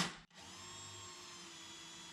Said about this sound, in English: So I'm going to drill a 1/4 inch hole.